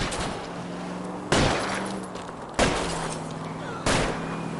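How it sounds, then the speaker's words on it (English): Gunshots are fired at a fleeing car's tires in L.A. Noire, four loud, evenly spaced reports over steady engine and road noise. "I'll try to shoot out his tires."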